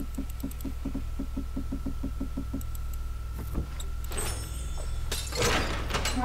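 A heavy bank door in a Red Dead Online mission: a steady mechanical ticking of a lock or latch, then clunks, a rattle and a creaking swing as it opens, fairly close and quiet under a low hum.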